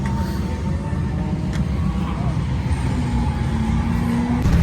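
The engine of an LS-swapped Mazda Miata, driven for the first time after sitting a year, runs with a steady low rumble up close, under a constant background roar.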